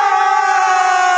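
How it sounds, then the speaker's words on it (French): A crowd cheers and shouts for footballer Samuel Eto'o, head of the Cameroon football federation, in a loud, sustained roar of many voices with no pauses. "Applaudissez pour lui."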